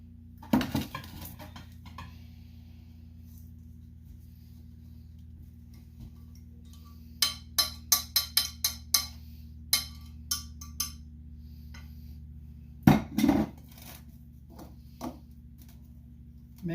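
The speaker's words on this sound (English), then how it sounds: "So now we're combining and mixing by hand." Banana bread batter mixed by hand in a bowl, with scattered clinks and taps of a utensil against the bowl in irregular clusters over a quiet steady hum, including a louder knock near the start and another later.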